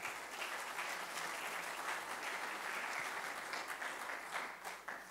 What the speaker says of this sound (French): vous pouvez l'applaudir chaleureusement